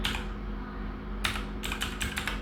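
Keystrokes on a computer keyboard clatter in quick, irregular clusters, close and fairly quiet, over a steady low hum with no talking.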